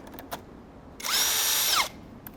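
A power tool spins briefly to undo screws on a 2009 Hyundai Equus VS380 six-cylinder MPI engine, one high whine of about a second that ramps up and winds down, with faint clicks before and after.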